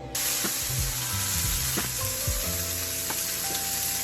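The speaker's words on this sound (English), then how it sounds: "now we're going to sear our pork chops, so we're just going to get a good brown on them" Pork chops sear in a hot greased pan with a loud, steady sizzle and spatter that never lets up, punctuated by a few soft clanks and thuds of handling.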